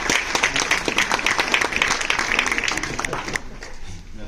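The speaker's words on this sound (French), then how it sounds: "j'aimerais qu'on les applaudisse vraiment" Applause from an audience at a library talk: many hands clapping in a dense, steady patter that holds for several seconds, then thins and fades near the end.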